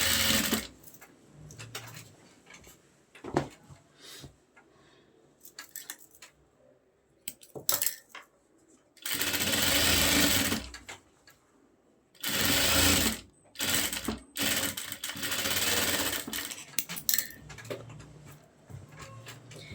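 A sewing machine stitches the edge of a belt shalwar hem, running in loud bursts of rapid mechanical whirring, some long and some short, separated by quieter pauses with handling clicks.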